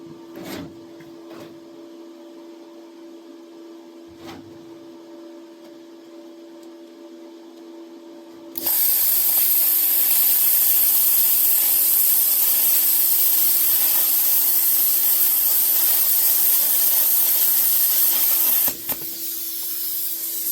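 Plasma cutter slicing through a 3/4-inch steel plate: a steady electrical hum first, then a loud, harsh, continuous hissing roar that runs for about ten seconds and stops abruptly.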